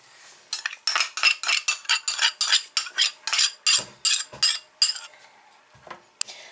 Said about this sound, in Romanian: Amestecăm bine, bine, bine toate ingredientele.